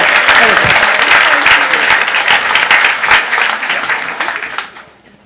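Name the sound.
applause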